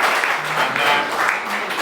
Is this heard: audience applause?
yes